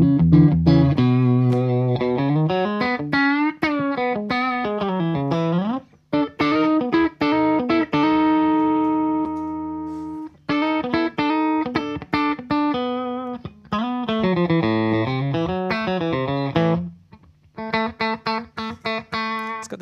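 Electric guitar running through a Line 6 M9 effects unit with its graphic equalizer switched off, played straight into the amp: bright picked phrases with bends and sustained notes, loud and close, broken by a few short pauses.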